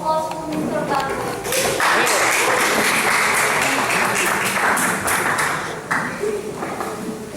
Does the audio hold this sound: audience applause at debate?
yes